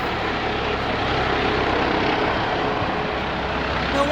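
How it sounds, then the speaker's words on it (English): A medical air ambulance helicopter at Papworth Hospital near Cambridge, UK, fills the air with a steady, loud, broadband engine and rotor drone that holds even throughout. "It's a medical helicopter."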